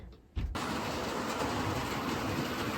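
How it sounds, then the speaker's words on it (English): Model railway freight train and A2 locomotive running on track, a steady close rolling rumble and rattle that starts abruptly after a brief quieter moment and continues evenly. "I'm back with another couple running, the freight train and the A2 this time"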